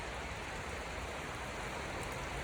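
Steady rain falls after a long dry spell, a dense, even hiss of drops on surfaces that holds at the same level throughout with no voices.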